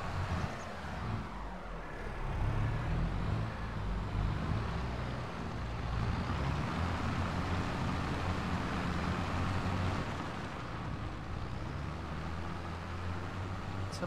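A Massey Ferguson 7726 tractor in Farming Simulator 22 drones with a steady, low engine rumble, swelling a little and then holding constant throughout.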